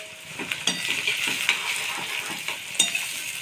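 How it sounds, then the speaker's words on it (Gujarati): A large chopped tomato cooks down with onion and garlic in a pan over low heat, giving a bright steady sizzle with repeated quick scrapes and clicks of a spoon stirring, close and alone. "ટમેટા થોડાક સતરાઈ ગયા છે."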